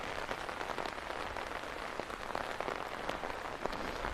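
Heavy rain falls steadily on surfaces, a dense, even patter with scattered sharper drops throughout, with no voices.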